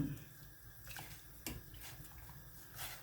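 Tap water running steadily to rinse out a mortar, faint and continuous with small splashes and a couple of sharper clinks.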